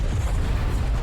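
A nuke detonating in Call of Duty: Black Ops Cold War, heard as a loud, sustained low rumble that fills the whole second without a break.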